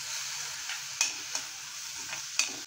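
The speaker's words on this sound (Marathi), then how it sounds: "मग कांदा असा व्यवस्थित परतून घ्यायचा." Onion sautéed in a pan for a sprouted fenugreek vegetable dish, a soft steady sizzle broken by several sharp scrapes and clinks of a stirring spoon, close and quiet.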